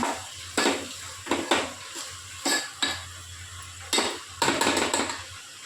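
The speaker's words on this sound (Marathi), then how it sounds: "परत एकदा मिक्स करून घ्यायचं." Spices stirred into tomatoes in a pan: a spoon scrapes and clanks against the metal in repeated short bursts, with a faint sizzle underneath, close up and without speech.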